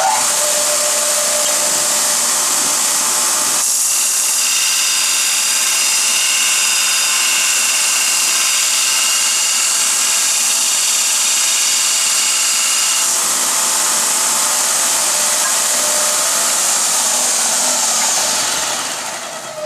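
Soft steel lathe threading tool being ground, a steady loud high-pitched grinding hiss that holds continuously for about twenty seconds, shifting slightly as the tool is moved back and forth, then easing off at the end.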